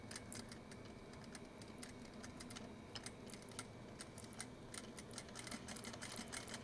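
A sewing machine runs steadily as it stitches close to the edge of fabric for a purse scarf, giving a fast, even mechanical patter with small ticking clicks and no voices.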